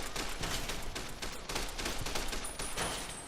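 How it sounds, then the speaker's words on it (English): Rapid gunfire in Fallout: New Vegas near a Vault 22 tram, a dense fusillade of repeated loud shots in a steady rhythm for several seconds, with no talking. "Just started shooting me for no reason"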